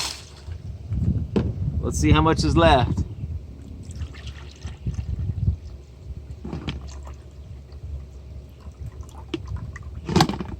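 Water is poured out of a Yeti or Ozark cooler in a short splashing burst, followed by faint trickles and dribbles, with a person talking before and after.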